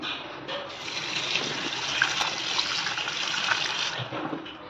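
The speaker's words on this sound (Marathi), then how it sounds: "आपण या करटुल्याला दोन तीन वेळेस स्वच्छ पाण्याने धुवून घेऊ" Water splashes and sloshes continuously as ivy gourds are rinsed by hand, a close, busy wet sound with no talking.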